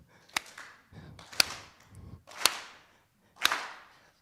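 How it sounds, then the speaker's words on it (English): Hand clapping for a Senegalese Barambay rhythm from a baby naming ceremony: four sharp, crisp claps about a second apart, close and distinct, with soft low sounds in the gaps between them. "Can everybody clap like this?"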